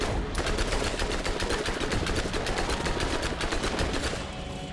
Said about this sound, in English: get our SMG going